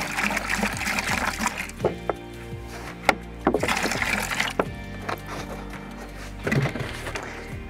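Water pours from a gallon jug into a mixing bucket for mortar, a gurgling splashing stream with irregular glugs and knocks, close and moderately loud.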